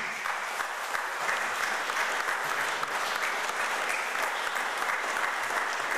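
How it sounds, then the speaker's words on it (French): A church congregation applauds vigorously at a Sunday service welcoming a new pastor, a dense, steady wash of many hands clapping for several seconds without letup. "on peut aussi l'applaudir avec force"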